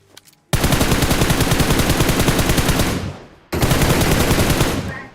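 Sustained automatic gunfire in the PUBG Mobile video game, fired from an apartment: two long, loud, rapid bursts, the first about three seconds, the second after a brief gap.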